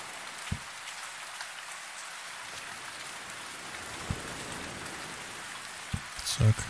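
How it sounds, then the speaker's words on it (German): Steady rain falls in the survival video game Survisland, a soft continuous patter of drops with a few faint, brief thumps scattered through it and no other clear sounds. "Wenn es regnet, regnet es, ne?"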